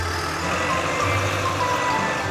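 A cartoon truck drives steadily with a continuous engine drone while reversing beeps sound in a steady pattern, all at a constant, fairly loud level with no talk.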